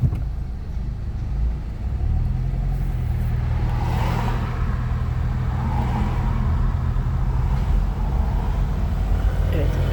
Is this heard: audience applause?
no